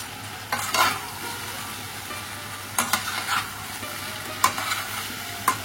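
Hilsa fish head shukto cooking in a pan, a soft steady sizzle broken by a few separate bursts of spatula scraping and stirring, close and moderately loud, with no talking.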